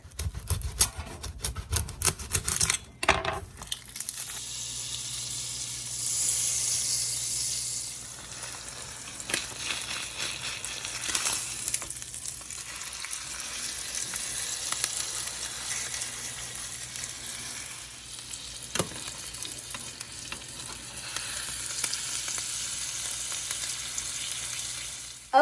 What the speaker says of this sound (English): Okay, so I quickly seared the chuck roast.